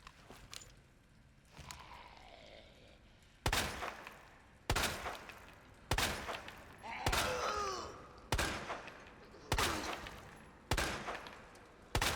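Gunfire at a stationary legless zombie in Resident Evil 2: a series of six loud, sharp shots spaced roughly a second apart, each with a short decaying tail, over faint game ambience and creature groans.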